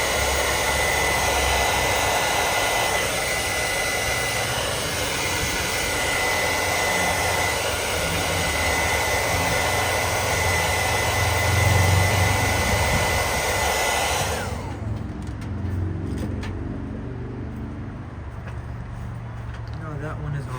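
A heat gun blows steadily on a headlight of a 1969 Camaro convertible, a loud continuous broadband hiss that cuts off partway through, leaving a quieter background with a voice speaking.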